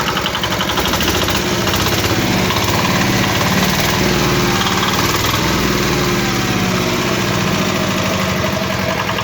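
Small engine driving a homemade generator built from a washing machine motor: a loud, steady, buzzing drone that runs unbroken throughout, close by, with no talking.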